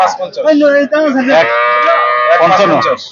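A Holstein Friesian dairy cow at a cattle market gives one long, loud, close moo that holds steady for a few seconds, with only a little background noise around it.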